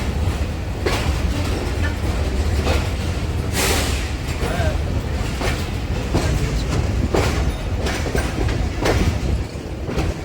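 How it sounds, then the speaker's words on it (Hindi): A train rolls steadily along the rails with rhythmic clickety-clack wheel beats and a low rumble, heard from on board near a station where the 14 Down Jaffar Express stands, under a voice. "सामने जाफर एक्सप्रेस खड़ी हुई है"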